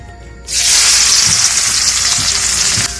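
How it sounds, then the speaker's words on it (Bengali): Chopped onions hit hot oil, setting off a sudden loud, bright sizzle that stays strong and steady to the end, with faint stirring knocks underneath and no voices. "তেলের ভিতর এখন দিয়ে দেব কুচি করে কেটে রাখা পেঁয়াজ"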